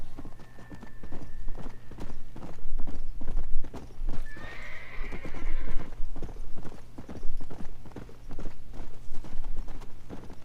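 A horse galloping in Red Dead Redemption: Undead Nightmare, with a steady, rapid clip-clop of hooves throughout and a loud whinny partway through, all over a low background hum.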